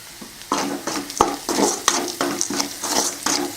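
Sautéed onions with curry leaves and a little salt, cooked for sundal, are stirred in a pan with a series of rhythmic spoon scrapes over a light sizzle, close up and with no voices.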